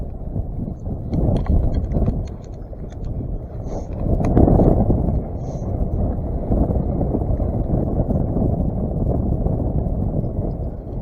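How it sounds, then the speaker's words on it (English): Strong wind buffets the microphone while bluegill fishing in 20 mph gusts, a loud low rumbling roar that swells in gusts and never stops. "Quite a bit windy, actually."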